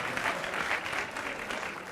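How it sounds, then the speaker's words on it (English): Congregation at an anniversary gathering applauding, a full, steady burst of many people clapping together, loud and continuous for a couple of seconds. "Those that started the Vision 2020, let's give them an applause."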